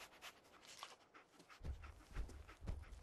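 A dog companion called Dogmeat in the video game Fallout 4 sniffs and pants, with a few quick breathy sniffs, then heavier panting that grows louder and more rhythmic in the second half.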